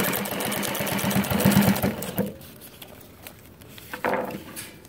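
A Juki LU-1508NH industrial sewing machine stitches black thread into brown leather, running with a fast, even mechanical patter for about two seconds, then slowing into a few separate thumps and short bursts, close and clear.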